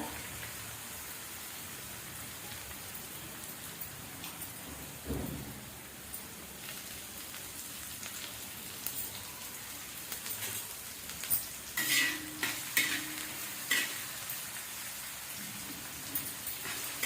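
Chopped onion sautés in a pan with a faint, patter-like sizzle that sounds almost like light rain, and occasional soft scrapes and knocks grow a bit louder toward the end; no voices.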